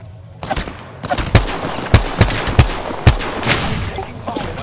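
Gunfire in the video game Apex Legends, a string of sharp, loud shots at irregular intervals over a busy background of game sounds, with no talk.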